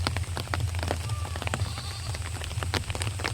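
Rain falls steadily on a village in Bengal, a dense patter of drops at close range, with a low rumble underneath and no voices.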